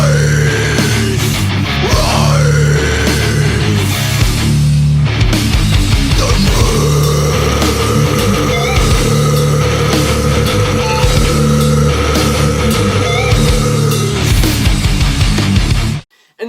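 Heavy death metal outro with chugging low guitars and pounding drums, loud and continuous with a sustained lead line above, ending abruptly in silence near the end.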